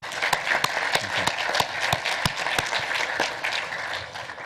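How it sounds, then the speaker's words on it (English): Audience applause at a sustainable aviation fuel conference panel session, a steady wash of clapping with sharp individual claps standing out, filling the room at moderate loudness throughout. "If you could join me in giving all of these folks another round of applause."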